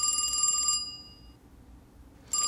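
An old-style telephone bell rings in rapid, bright bursts, pausing briefly before starting again, heard clearly indoors in a barn setting with a quiet background.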